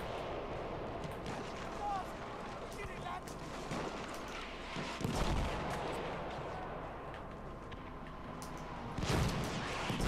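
Gunfire and artillery blasts in the video game Battlefield 1 form a dense battlefield din of scattered shots and heavy booms, with a voice talking over it at times.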